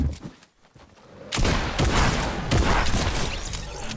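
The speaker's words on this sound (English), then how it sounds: "here we go again with this fucking shotgun" Shotgun blasts in a video game, a burst of loud heavy booms and thuds after a quiet start, with dense gunfire continuing throughout.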